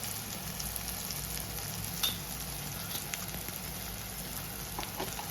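Garam masala, turmeric and chilli powder frying in a pan for a crab curry give a steady, soft sizzle with light stirring, close and continuous, with one small clink partway through.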